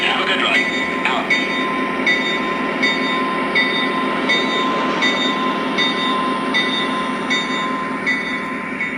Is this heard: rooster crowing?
no